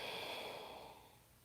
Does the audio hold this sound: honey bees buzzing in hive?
no